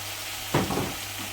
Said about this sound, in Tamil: கொஞ்சம் நல்லா ஃப்ரை ஆகட்டும்.